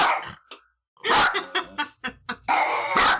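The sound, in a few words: dogs barking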